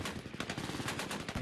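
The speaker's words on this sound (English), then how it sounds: "even a barrage of gunfire." Rapid barrage of gunfire, a dense burst of sharp repeated shots like a machine gun firing in quick succession, loud and close for about a second and a half.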